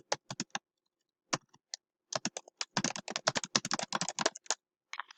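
Someone types on a computer keyboard in short, irregular bursts of crisp key clicks, close and fairly quiet, with pauses between runs and a faster flurry near the end.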